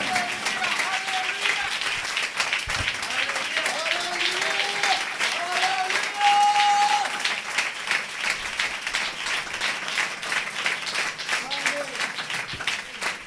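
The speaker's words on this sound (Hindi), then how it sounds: "यीशु मसीह के लिए जोरदार तालियां।" Congregation at a church service applauding loudly for Jesus Christ, a dense, steady wash of many hands clapping for over ten seconds with scattered voices and cheers mixed in.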